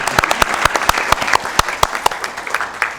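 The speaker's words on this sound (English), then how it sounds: "that's your cue to applaud" A handful of people at a county commission meeting clap together, sharp distinct claps close by, irregular and brief, lasting a few seconds.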